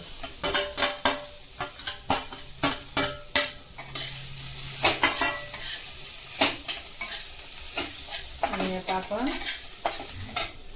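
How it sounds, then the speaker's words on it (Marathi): Roasted ginger, garlic and coconut stir-fried with rice in a pan for chicken rassa masala: rhythmic scraping spatula strokes over a steady sizzle, close and loud, repeating through the clip with no voices. "अगोदर भाजलेलं आलं लसूण खोबरं हे त्याने तांदूळ परत त्यामध्ये थोडेसे परतून घेऊ"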